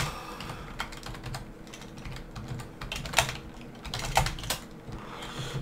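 Someone types steadily on a computer keyboard while playing Minecraft. The keys make rapid, close clicks in uneven bursts, with a few sharper strikes, and no voices are heard.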